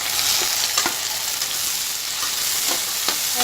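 Chopped tomatoes go into fried rice in a hot pan, and a loud, continuous close-up sizzle fills the sound with a few stirring scrapes and knocks and no voices.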